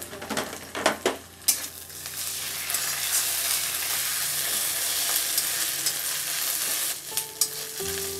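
Ginger-garlic paste frying with onions in a pan for a Bengali ridge gourd dish, a loud steady sizzle after a few clattering stirs, with more utensil scrapes near the end.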